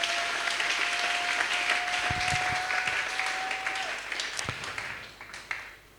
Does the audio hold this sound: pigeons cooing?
no